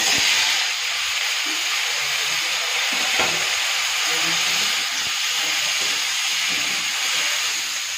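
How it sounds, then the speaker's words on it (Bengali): Crab legs fry in hot oil with a loud, bright, unbroken hiss that fills the whole stretch, and a few faint clinks rise over it. "এবার কাঁকড়ার হাত পাগুলো ভেজে নেব।"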